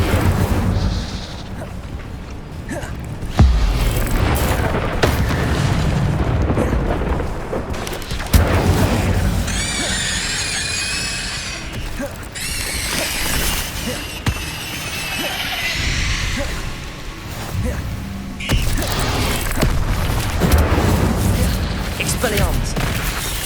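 Incendio fire spells blasting again and again in Hogwarts Legacy, a run of loud booming bursts and crackling magical whooshes mixed with combat effects and a voice shouting spell names.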